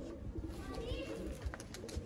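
Ferozpuri pigeons, medium-tailed birds, coo in low soft rolls under nearby chatter and handling noise.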